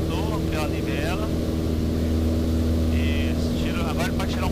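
A training aircraft's engine drones loud and steady from inside the cockpit as the throttle is eased back, while faint voices come through underneath.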